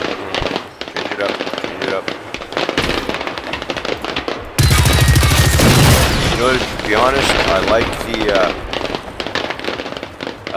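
Fireworks bursting in the video game Generation Zero, a loud dense crackling barrage of rapid pops lasting a couple of seconds, with someone talking over and around the bangs.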